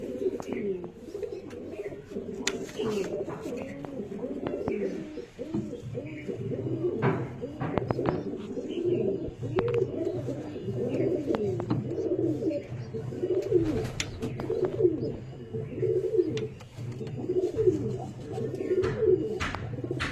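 Pigeons cooing continuously in soft, overlapping low warbles, with occasional clicks and knocks nearby.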